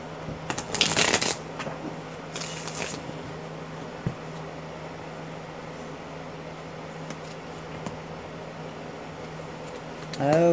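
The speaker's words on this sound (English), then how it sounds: "Let me shuffle again." Tarot cards shuffled by hand during a reading, two short bursts of riffling near the start over a steady fan-like hum, then a quiet stretch and a voice beginning at the end.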